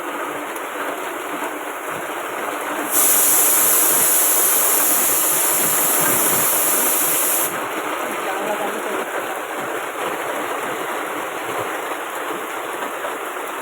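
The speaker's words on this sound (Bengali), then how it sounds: "এই দেখো এরকম এরকম বৃষ্টি পড়ছে দেখো" Steady rain pouring down outdoors at a village home, a dense continuous hiss that swells louder for a few seconds in the middle before settling back to a constant wash.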